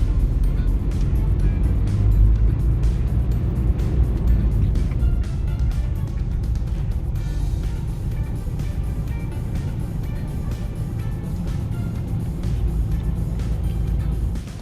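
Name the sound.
taxis and jeepneys passing on Osmeña Boulevard, Cebu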